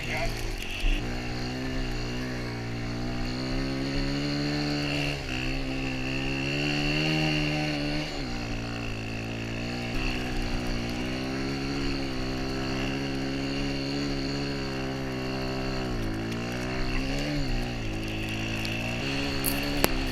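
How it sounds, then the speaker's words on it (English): A dirt bike engine held wide open in fourth gear while ripping through powdery snow in a blizzard, a steady loud buzzing drone with a slowly rising and falling pitch that keeps going the whole time. "This whole time I was just fourth gear tapped, wide open on the throttle, just ripping through the snow."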